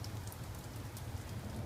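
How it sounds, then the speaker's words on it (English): Light rain spits down outdoors on a damp, chilly day, a continuous soft patter of drops on surfaces with no voices, even and moderately faint. "Another rainy day. It's just kind of spitting out."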